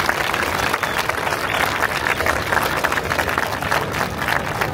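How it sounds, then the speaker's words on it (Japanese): A street crowd applauds at the opening ceremony of the Shibuya Center-gai Nebuta festival in Tokyo, a dense, steady wash of many clapping hands sustained for several seconds. "改めまして皆様大きな拍手をお願いいたします。"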